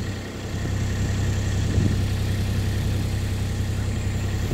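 A four-wheeler ATV idles steadily at low pitch throughout, a constant mid-level engine drone with one faint knock, and no one speaking.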